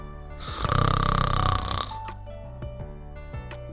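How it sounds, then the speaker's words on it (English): A person snoring as a body-sound example, one loud rasping snore filling the first half, followed by quieter breathy noises and faint clicks without any talk. "snore,"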